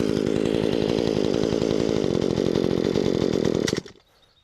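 A small two-stroke chainsaw engine, newly repaired with only an idle-screw carburettor adjustment, runs steadily and loudly with a fast buzzing pulse for several seconds, then cuts out abruptly into near silence.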